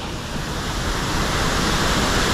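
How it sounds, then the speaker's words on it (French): A steady, loud rush of a waterfall fills the space, a constant broadband roar with no pauses or voices. "Et voilà, la dernière cascade."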